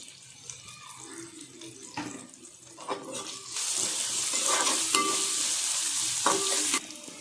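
Curry leaves, mint and coriander hit a pan of frying ginger-garlic paste for veg fried rice. Light stirring sounds lead into a loud, bright, steady sizzle that lasts several seconds, then drops off sharply.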